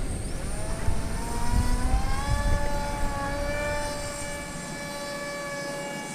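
F-22 Raptor RC model jet climbing away on its maiden flight from a grass field, a whining motor with smoothly shifting pitch, fairly loud and steady.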